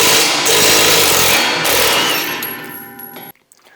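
A handheld impact wrench spins a nut on a MUSKOX 26-84 snowblower's auger, a loud, dense rattling hammer that runs steadily for about three seconds before cutting off abruptly into quiet.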